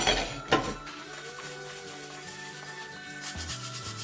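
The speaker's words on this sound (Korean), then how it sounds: "설거지하며 바로 싱크볼과 배수구망 안쪽까지 닦아주니까 그릇 하나 더 닦는 것과 다를 게 없어요" Scrubbing a kitchen sink bowl and drain strainer while washing dishes: close, rasping rub strokes that follow a brief clatter at the start.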